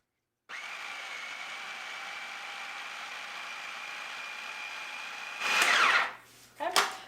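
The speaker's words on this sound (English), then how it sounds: "Then we're going to blend this up again." A kitchen blender mixes sourdough discard scone dough with buttermilk: a steady, moderate whirring drone holds for about five seconds, then swells into a louder, rougher burst before cutting off with a couple of short clattering bumps.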